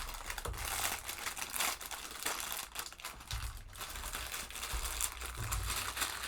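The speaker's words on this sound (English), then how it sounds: "sort out my bags real quick, and you get the fun ASMR of crinkling plastic." Plastic bags from a Lego Everyone is Awesome set 40516 crinkle and rustle up close, a steady run of crisp handling noises with brief louder crunches and no talking.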